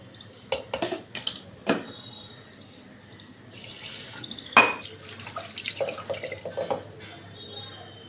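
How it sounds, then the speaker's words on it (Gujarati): Rice grains and lentils swished and rinsed in water in a kitchen vessel, with soft splashes, clinks and trickling in short irregular bursts, one sharper knock midway, moderately near and fairly quiet. "એક બે વખત ધોઈ નાખવાની."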